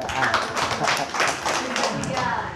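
An audience claps together at a church gathering in Indonesia, a brisk, close burst of hand claps that continues throughout, with voices mixed in.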